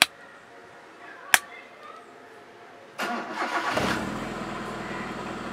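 A car engine cranks and catches at about three seconds through a DIY push-start ignition panel wired with the fuel pump, then settles into a steady idle, loud and close. A sharp click is heard beforehand.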